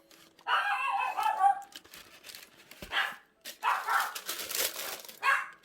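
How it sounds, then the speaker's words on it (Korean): A dog barks in repeated short bursts close by indoors, during an unboxing of Nike Air Force 1 Low Paranoise sneakers, with some rustling of packaging in between. "우리 멍멍이가 짖네요."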